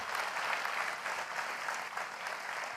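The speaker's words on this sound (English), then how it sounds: "Let's give them a big round of applause." Applause from a large audience in a keynote hall at Apple's WWDC 2017, a steady, full wash of clapping throughout with no voices.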